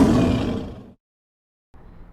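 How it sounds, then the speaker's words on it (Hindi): A lion lets out one loud, close roar lasting about a second, then there is silence, followed by a faint low rumble. "परछाई को देखकर शेर जोर से दहाड़ा।"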